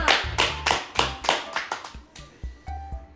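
A small group clapping during a mimicry challenge with YouTubers, sharp close claps in a quick rhythmic series of about a dozen, loud at first and thinning out toward the end.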